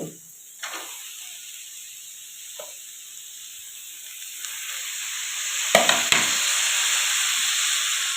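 Cabbage frying in a pan on a home stove, a soft continuous sizzle with a faint hiss, briefly stirred with a couple of scraping clatters near the end, no talk.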